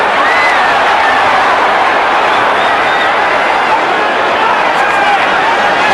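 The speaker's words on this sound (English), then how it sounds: "Listen to the crowd now, Barry. It's fascinating how they change all of a sudden." Boxing arena crowd during a Mike Tyson fight, a loud continuous roar of cheering and chatter that holds steady and swells with excitement across the whole stretch.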